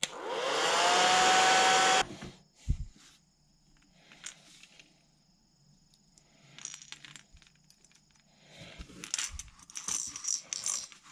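A heat gun blows steadily for about two seconds while drying paint on the fin of a jointed glide bait lure painted in a bluegill pattern. After that come quiet handling clicks and light rustling.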